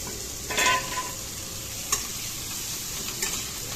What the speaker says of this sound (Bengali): এই যে গার্লিক বাটার গলতে শুরু করেছে, আমি ঠিক তখনই দিয়ে দিলাম এই যে মাশরুমগুলো।